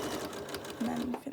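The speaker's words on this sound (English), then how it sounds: "Just going to sew down this side so it make sure it's flat." Sewing machine stitching a seam down the side of a homemade fabric medical mask, a close steady mechanical whir that rises into a louder run near the end, with faint speech in the background.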